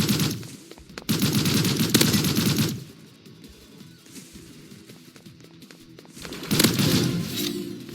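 Bursts of rapid automatic gunfire from the online shooter Hypershot, two loud sustained volleys with a quieter gap of scattered shots between them, dense and close.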